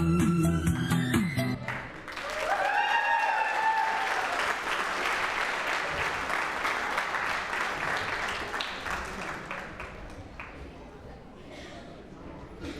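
After a song at the TKK Deepotsava stage program, the crowd breaks into clapping. A moment of tonal music comes first, then the steady applause gradually fades out.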